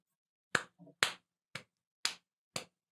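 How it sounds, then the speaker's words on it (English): Five sharp, crisp slaps of a hand on buttocks struck at a steady drum-like beat, close by with silence between them and a soft muffled tap after the first. "stop clapping my ass like a drum"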